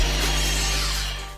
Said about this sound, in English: Cut this with your miter saw.